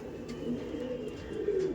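A keeper's flying pigeons in a Behala loft coo steadily in low, droning calls that rise and fall, close by, with a faint murmur of voices in the background.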